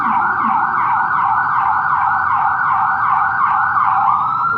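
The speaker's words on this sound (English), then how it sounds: "there's the sirens going down the street here." Emergency vehicle sirens wail down a street, a loud, continuous rising and falling tone repeating in regular cycles over faint traffic rumble.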